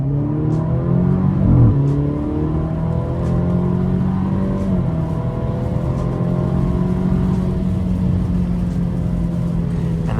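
Alfa Romeo Giulia 2.0L engine pulls hard under full throttle, its steady drone climbing through the revs with upshifts breaking the rise, loud and close from inside the cabin.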